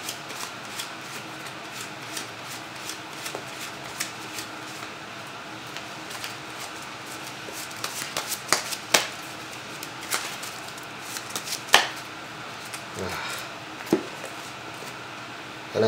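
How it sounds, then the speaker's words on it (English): A deck of Vanguard trading cards being shuffled by hand in a quiet room, with a steady soft riffle and scattered sharper flicks and snaps close to the microphone, no voices. "Shuffling."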